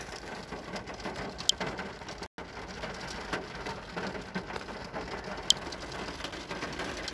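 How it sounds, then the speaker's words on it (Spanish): Heavy rainstorm pouring steadily, a dense hiss of rain falling on surfaces with a few sharp drop hits, continuous and fairly loud throughout with a brief dropout midway. "está cayendo un tormentón"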